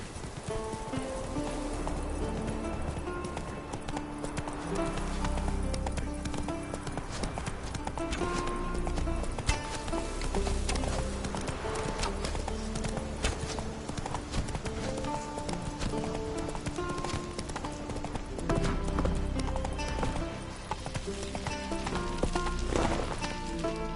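Roach, a horse in The Witcher 3 on PS4, gallops with rhythmic clip-clopping hooves that run steadily and close, mixed with game music and occasional snorts, with a voice heard faintly now and then.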